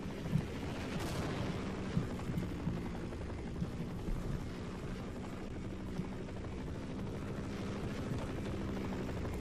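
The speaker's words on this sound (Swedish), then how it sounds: "Ja, då kommer helikoptern tillbaka." A helicopter in the video game Half-Life keeps up a steady, loud low rotor drone with a dense rumbling beat for the whole stretch, with occasional sharp thumps, and no talking over it.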